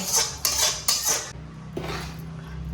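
Dry ingredients for protein laddus are stirred with jaggery in a metal pan, a spoon scraping and clanking against the pan in several sharp strokes, then a softer, quieter stir.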